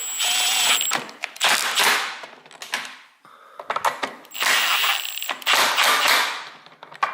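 Screws being snugged down with a hand tool while fitting an hour meter to a Toro TimeMaster 30-inch mower, heard as two long stretches of close, busy mechanical ratcheting and clicking with a brief pause between them.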